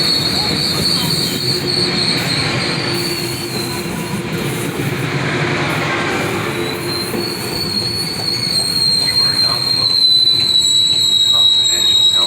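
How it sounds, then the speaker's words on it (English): A Metrolink commuter train pulls away from a station in Irvine, California, its wheels squealing in high, sustained tones over a steady rolling rumble, loud and close. "The train is leaving."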